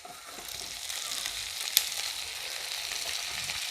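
Chopped capsicum and onion sauté in a hot pan for a paneer dry masala, giving a steady bright sizzle with one brief clink of stirring midway.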